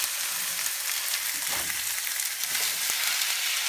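Pork cubes for puerco con chile colorado frying in a pan until brown, giving a steady broadband sizzle throughout, close and even, with a couple of faint stirring clinks.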